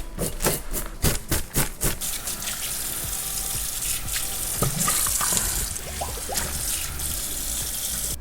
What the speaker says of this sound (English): rinsed it in the sink